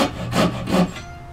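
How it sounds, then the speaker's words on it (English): Hand saw cutting wood while forming double tenons on side rails: two rasping strokes close by, a short steady back-and-forth rhythm, then a quieter pause. "saw that down a little further right there."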